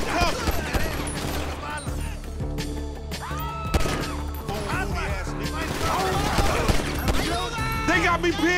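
Gunfight gunfire in GTA 5 during a mission, with repeated shots over busy game music and effects, voices talking throughout.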